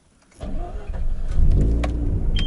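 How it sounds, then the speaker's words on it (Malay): A car engine cranks briefly, then catches and settles into a steady rumbling run, close and fairly loud. "Kita start enjin dulu."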